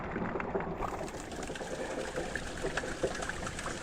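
Rainwater trickles and splashes at the ruined main gateway of Talegad fort, a soft continuous wet patter heard up close.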